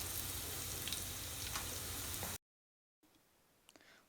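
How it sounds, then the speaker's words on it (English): Sliced onion and garlic frying in a pan give a steady, fairly loud sizzle with a few soft crackles, then a short silent gap and a much quieter stretch of faint sizzling with small pops. "Add our sliced onion and garlic. Cook it until the color is golden brown"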